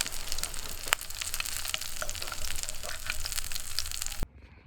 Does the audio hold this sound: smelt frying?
yes